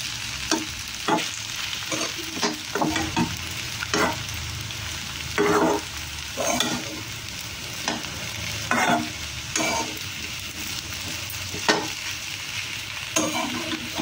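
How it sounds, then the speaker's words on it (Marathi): A spoon scrapes and stirs roasted peanut powder in a kadhai in repeated uneven strokes over a faint steady sizzle, with no talking. "ते थोडं फिरवून घेते ते चमच्याने"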